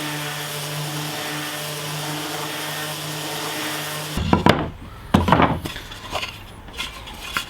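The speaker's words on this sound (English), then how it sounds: "I'm just going to sand them down." A power sander works reclaimed pine boards with a steady droning motor hum for several seconds, then stops, followed by a few hollow wooden knocks and handling clatter nearby.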